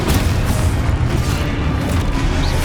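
A Confringo spell explodes in the Hogwarts Legacy video game, giving a dense, sustained booming rumble with crackling bursts that stays loud and close for the whole stretch, with no talk over it.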